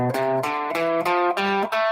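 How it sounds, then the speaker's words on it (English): Electric guitar with some distortion plays single notes of an A natural minor scale, about seven distinct picked notes in even succession over two seconds, clear and alone. "That's the sound of the natural minor scale."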